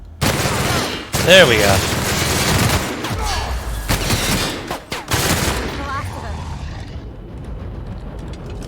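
Gunfire in The Outer Worlds video game comes as loud, rapid bursts of shots with a heavy boom, trailing off into quieter game ambience while someone speaks briefly.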